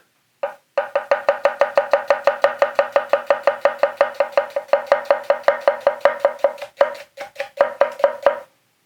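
A Ryusen kitchen knife slices vegetables into julienne strips with fast, regular, sharp knocks on the board, loud and close, in a long rapid run with a brief stutter near the end, no voices.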